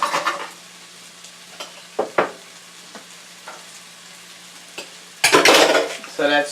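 Butter sizzles in a pan with shrimp, peppers, onions, cilantro and garlic. Faint frying crackle sits under intermittent spoon clatter against the pan, then a loud burst of sizzling and stirring near the end.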